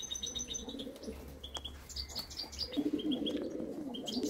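Pigeons coo in low, repeated murmurs at an open coop while sharper chirps and faint wing flutters come and go, moderately close and without any voices.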